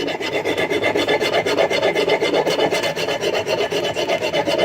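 Abrasive scraping close up as paint is stripped off an old hand tool, a steady, rapid back-and-forth rasp with an even rhythm and no pauses or voices.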